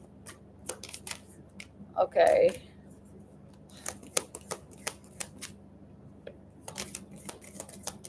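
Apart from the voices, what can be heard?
shuffling large thick oracle cards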